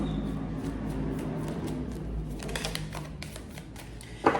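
Soft, rapid riffling of tarot cards being shuffled, faint at first, then crisper flicks toward the end.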